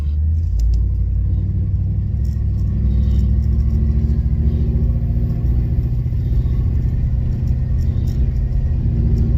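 A deep, rumbling LS V8 engine swapped into a G-body car idles and revs up close, its low burble loud and steady with occasional uneven stumbles from a misfire.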